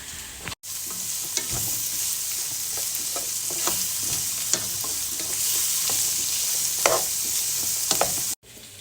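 Chopped carrots sauté in a pan, a continuous close sizzle broken by repeated scraping stirs throughout.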